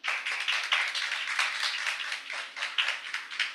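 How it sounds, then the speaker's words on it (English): An audience at a high school campaign rally applauds a student party, brisk, bright clapping from many hands that runs steadily and close throughout, with no speech over it. "So please give a round of applause to the Star Party."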